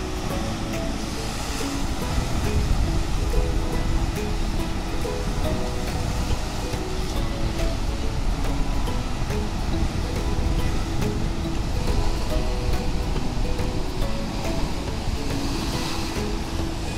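Water pouring continuously from the canal exit of Hatnur Dam on the Tapi River, a dense steady rushing roar with no pauses.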